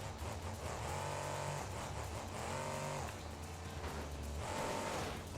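Monster truck engine in BeamNG.drive revving hard under full throttle, rising and falling in three repeated surges, steady and moderately loud with no talk.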